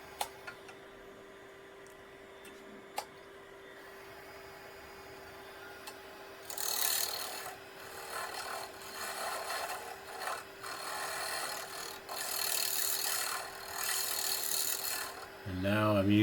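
A square carbide cutting tool scrapes into wood while a garlic keeper is turned, starting after a quiet stretch and settling into a close, rhythmic rasping that swells and fades in repeated passes, with a faint steady hum underneath.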